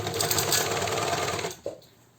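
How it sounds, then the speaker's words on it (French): Sewing machine stitching jersey fabric for a T-shirt, a loud, steady rapid whir running continuously for about a second and a half before stopping, followed by a short clunk and quiet. "pour celles qui utilisent la machine à coudre aussi, il n'est pas nécessaire de surfiler vos morceaux de tissu"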